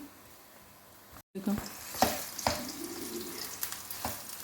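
Potato chips frying in hot oil on medium heat for masala fries, a soft broadband sizzle after a brief dropout, with a few sharp pops and clinks of stirring near the pan.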